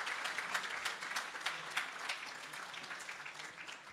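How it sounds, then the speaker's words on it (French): Audience applause at an annual dinner, steady scattered clapping from a crowded room, moderately distant and gradually tapering off over a few seconds. "On applaudit, là."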